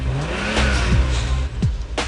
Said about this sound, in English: This is the Lambo.